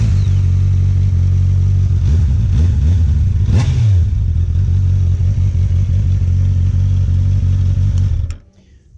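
A 2021 Honda CBR650R motorcycle with a long header routed under the engine into a small, slightly raised Euro 5 muffler runs close and loud, idling and then revving up in several sharp blips before settling, cut off abruptly at the end.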